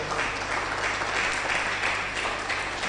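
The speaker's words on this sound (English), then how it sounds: "If you want to clap, clap well." Applause from an audience at an academic research and innovation day event, a steady wash of clapping holding at an even level for the whole stretch, with no voices rising above it.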